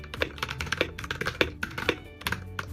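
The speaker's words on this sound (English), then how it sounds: "the typing experience of this keyboard is very smooth" Steady typing on an EVOFOX Katana S Mini wireless mechanical keyboard, crisp close-up key clicks in quick, uneven bursts with brief pauses, and no voice.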